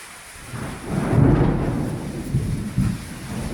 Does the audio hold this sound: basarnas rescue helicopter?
no